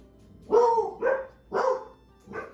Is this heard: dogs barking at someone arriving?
yes